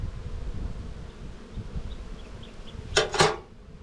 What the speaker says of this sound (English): There's just a drone. Every second bee is a drone.